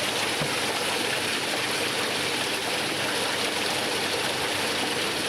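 Treated effluent water pours steadily into a collection tank at a wastewater treatment site, making a dense, even rushing and splashing wash that stays constant and fairly loud throughout, with no pauses.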